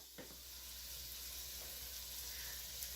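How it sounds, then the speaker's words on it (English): Italian sausage browns over medium-high heat in a pan, a steady soft sizzle of frying meat with a faint stir or scrape near the start, continuous and close with no talking. "So we're browning the sausage over medium-high heat"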